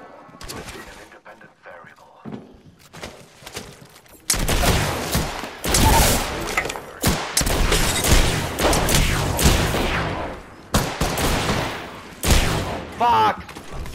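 Apex Legends firefight with bursts of gunshots and clattering fire, quiet at first and then loud and choppy in irregular volleys, with players talking over parts of the action.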